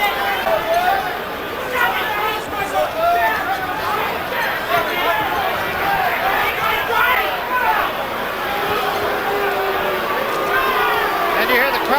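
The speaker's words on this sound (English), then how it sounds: "It's the first time I've ever heard a crowd boo at a Mike Tyson fight." An arena crowd booing at a Mike Tyson boxing fight, a dense, continuous wall of voices that stays loud and unbroken throughout.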